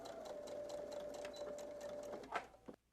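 A sewing machine stitches over an earlier seam joining two fabrics. Its quiet, steady, rapid whirr carries a faint tone, then a couple of clicks sound before it stops at the end.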